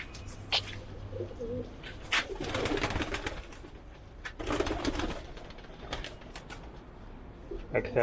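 Pigeons coo repeatedly, fairly close, in soft rhythmic bursts mixed with wing flutters and shuffling noises, while people talk intermittently in the background.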